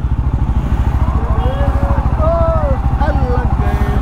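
Motorcycles from a riding group roll in and park, their engines throbbing steadily and close by with a rapid pulsing idle. Voices carry over the engines throughout.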